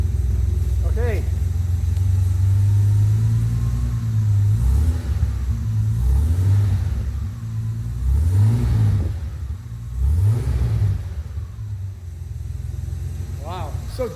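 A Jaguar E-Type's engine on its first drive, a deep low rumble that rises and falls through several revving surges as the car accelerates and shifts, close and loud, with people talking over it.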